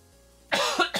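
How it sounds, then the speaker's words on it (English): Two or three harsh coughs from one person, close and loud, after a quiet stretch. "I'm coughing now."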